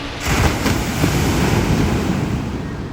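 Sea waves at Alappuzha beach near the old pier, a steady close wash of surf with rushing wind noise against the microphone, no voices.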